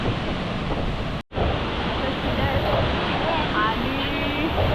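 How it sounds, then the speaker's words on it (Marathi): Strong, fast river current rushing beneath a suspension footbridge on the route to Devkund waterfall, a loud steady broadband roar of water that fills the whole clip, broken only by a brief dropout early on. "पाण्याचा प्रवाह बघा तेवढा जोरात आहे."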